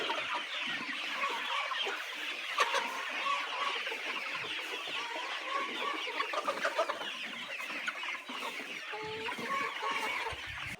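A flock of layer chickens clucking and murmuring continuously at close range, overlapping calls filling the whole stretch with occasional louder squawks, no talk.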